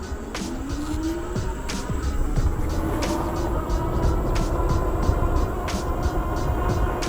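Dual-motor Meelod DK300 Max e-bike with a steel frame climbing a steep hill, a steady electric motor whine rising in pitch under wind noise, with periodic sharp clicks and rattles.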